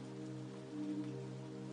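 Soft, steady rain patters on the ground in a continuous wash, with a low constant hum beneath and no voices.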